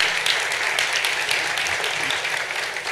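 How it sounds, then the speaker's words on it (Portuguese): Steady, dense applause from an audience at a World Water Day forum held in a cultural center, loud and continuous throughout. "Palmas para o Pedro, palmas para a Juliana,"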